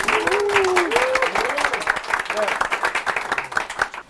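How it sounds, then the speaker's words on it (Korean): A talk-show audience claps to welcome a guest, the CEO of a big data and cloud computing company. Distinct, close hand claps ring out under a speaking voice early on, then thin and fade at the end. "박수 부탁드리겠습니다"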